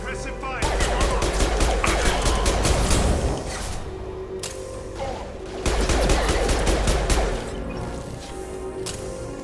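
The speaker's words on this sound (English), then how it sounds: "Requesting suppressive fire" Sustained, loud bursts of suppressive gunfire from a Mass Effect 2 firefight, with dense rapid automatic shots in two heavy waves and a short lull between them.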